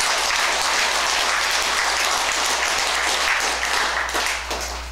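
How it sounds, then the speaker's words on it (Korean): Sustained audience applause fills the hall at a Buddhist Sunday dharma talk, dense and steady throughout before easing slightly at the end, with no speech over it. "제 말이 좀 동의한다면 박수를 한번 보내주시기 바랍니다"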